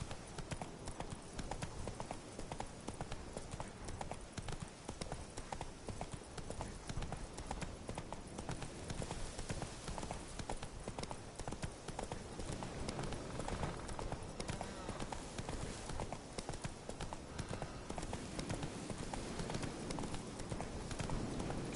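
Horse Roach's hooves clip-clopping in The Witcher 3: Wild Hunt, a steady, continuous rhythmic trot with dense layered game sound, loud and sustained throughout.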